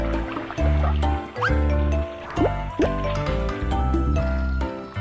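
Bubbling, gurgling liquid sounds from the BabyBus Happy Fishing kids' game pop and drip in quick bursts over bright, tonal game music, with rising bloops scattered throughout.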